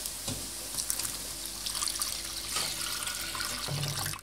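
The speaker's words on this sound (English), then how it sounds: "Now we're gonna add the fishy brothy milk that we made earlier." Fishy, brothy milk poured into a pot of mashed-potato soup for Cullen skink, a steady close gush of liquid with splashes and a few knocks, running without talk and ending abruptly.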